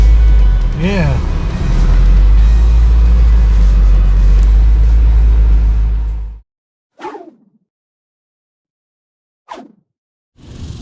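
C5 Corvette on a test drive: a loud, steady engine and road rumble from inside the car for several seconds, cut off abruptly, followed by two short isolated swooshing bursts separated by silence.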